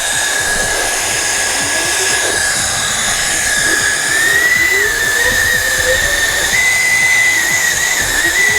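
A MECO ELEVERDE electric air duster blowing dust out of a fan, a loud, steady high-pitched whine and hiss of rushing air that holds throughout, its tone shifting slightly upward partway through.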